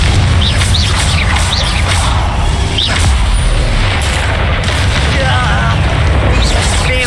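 A loud, booming blast from the Confringo explosive spell in Hogwarts Legacy rumbles continuously, with bird chirps scattered over it.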